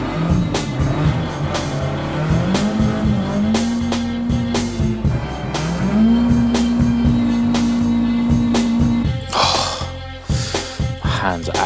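Mk2 Ford Escort on Nankang NS2R semi-slick tyres driving through snow, engine note rising and falling steadily through gear changes, loud and close, with a rough disturbance near the end.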